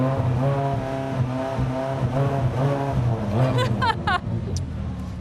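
A dream car's engine revs up at an auto show, rising and falling loudly through a couple of throttle blips over busy hall noise.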